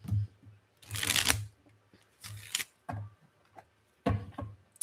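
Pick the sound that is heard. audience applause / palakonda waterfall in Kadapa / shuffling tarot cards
shuffling tarot cards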